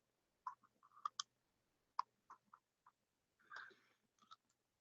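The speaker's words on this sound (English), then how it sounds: "It's got clicky little air control." Small clicky air-control ring on a vape being turned, a few faint, sharp plastic clicks spaced irregularly, with a brief soft rustle near the end, quiet and close.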